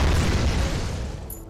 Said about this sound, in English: lots of very loud shots and explosions going on all around you